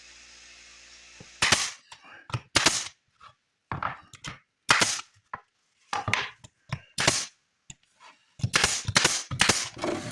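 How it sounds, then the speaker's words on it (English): Staple gun firing into a wooden picket planter during glue-up, a series of sharp, loud clacks in irregular bursts with short pauses between, close up and with no talking. "staple it"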